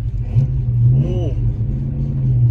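A Chevrolet Camaro SS engine rumbles close by with a brief rev rising and falling near the middle, a low steady throb under people talking in the car.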